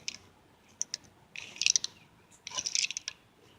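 Worn Ford 9-inch axle bearing with missing balls, turned by hand and giving faint, irregular metallic clicks and gritty scraping bursts at close range, with no voices.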